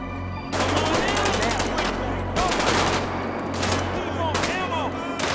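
Automatic weapons rattle in rapid bursts during a GTA 5 zombie survival fight, with loud, close volleys separated by short pauses over a low steady hum.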